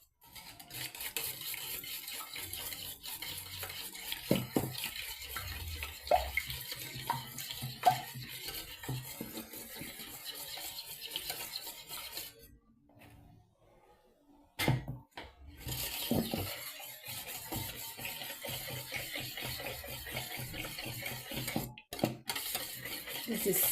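Yogurt pancake batter being stirred in a bowl, with a steady run of soft scraping and clinking utensil taps, close and fairly quiet, pausing briefly midway before the mixing resumes.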